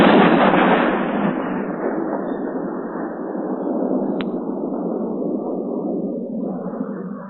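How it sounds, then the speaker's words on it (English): A large blast in Tennessee, heard as a loud, sustained roar that starts strong and slowly fades over several seconds, with a brief sharp crack partway through. "you guys can hear that it was the explosion"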